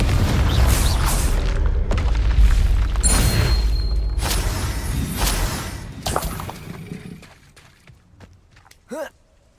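Confringo blasting spell explosions in Hogwarts Legacy, a series of loud booming blasts with crackling, shattering debris over the first six seconds, fading into quieter rumbles and a final short whooshing burst near the end.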